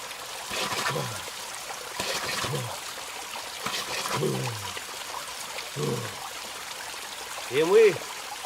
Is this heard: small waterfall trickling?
yes